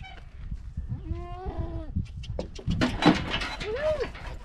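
Goats on a farm bleat in short, wavering calls amid scraping and shuffling, with people talking nearby.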